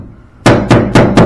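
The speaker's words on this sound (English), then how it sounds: "I just went around with a hammer" A hammer taps the metal seam ends on a Foxbody Mustang GT body during repair, four sharp, loud, evenly spaced strikes heard up close after a brief quiet lead-in.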